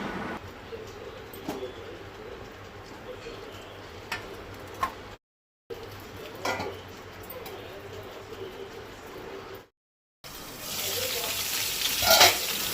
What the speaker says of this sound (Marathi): तेल तापलें काय ना एक एक मिरची तेजेर दवरून मागीर धांपून दवरपाक जाय।